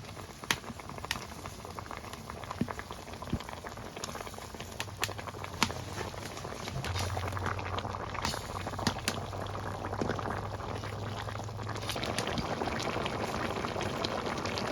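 Broth for a tilapia and pointed gourd curry boils at a steady simmer, a soft continuous bubbling with faint pops, low and close with a gentle low hum under part of it.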